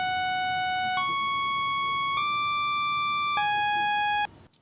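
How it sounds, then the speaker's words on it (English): Plain saw wave synth melody of four sustained notes, each a bright buzzy tone with stacked harmonics, holding about a second apart before stopping abruptly. "So here's the melody, a plain saw wave."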